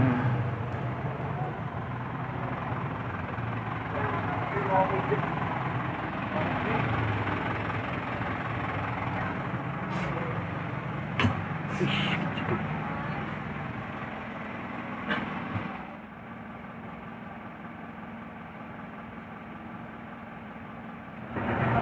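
A tour bus engine idles on a Yogyakarta heritage tour, a steady low mid-range rumble with faint background noise and a few brief clicks, softening slightly toward the end.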